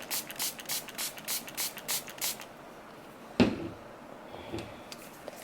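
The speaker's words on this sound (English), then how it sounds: "I'm going to spray each of these" Tint spray sprayed onto thin HD lace, about eight quick rhythmic spritzes close by, followed by a louder rustling handling sound and soft shuffling.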